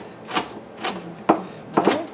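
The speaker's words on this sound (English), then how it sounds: "Diced up little onions." Knife dicing onions on a cutting board, four soft, separate chopping strikes about half a second apart, close by and moderately loud with no voices.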